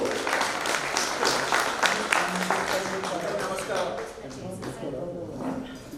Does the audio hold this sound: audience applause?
yes